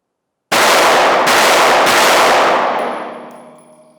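Shots from a small subcompact backup handgun ring out in a rapid loud burst of about three reports, followed by a decaying echo and ringing tail.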